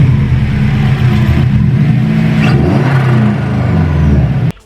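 A car engine revs briefly and loudly with a throaty harmonic drone, dips, climbs again, then cuts off abruptly into quiet.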